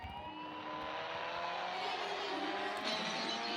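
A motorbike in the racing game Indian Bike 3D accelerates, its engine whine climbing steadily and loudly with no break, no talking.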